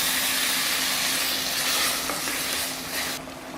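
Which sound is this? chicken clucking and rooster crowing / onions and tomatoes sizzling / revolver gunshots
onions and tomatoes sizzling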